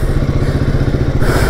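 Royal Enfield Himalayan 450 motorcycle ridden in traffic, its engine thumping in a loud, steady pulsing rhythm close to the rider, with a rush of wind and road noise rising near the end.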